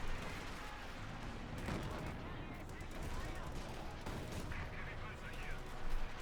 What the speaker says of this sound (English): their camp being slowly shredded with bullets